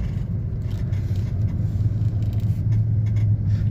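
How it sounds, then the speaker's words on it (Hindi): A Maruti Swift diesel car with a boost pressure fault and power loss rumbles along on the road, a low steady engine drone with some road noise and brief scrapes, close and continuous without talk. "लगाते हैं गाड़ी को साइड पर।"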